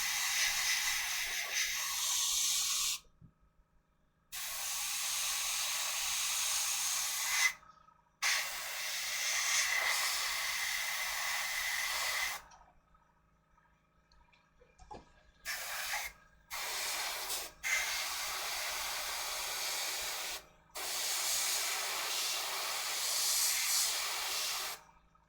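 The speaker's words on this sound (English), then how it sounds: "A bit of the paint spray as well." Spray paint hisses onto miniatures at a hobby workbench in several long, loud bursts of steady hiss, separated by short silent pauses and a few brief spurts.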